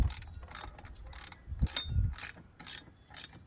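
Ratchet wrench turning a 13mm deep socket while installing a Mishimoto oil catch can on a Ram 1500 5.7 HEMI, with repeated close clicking bursts in a back-and-forth rhythm and a few knocks.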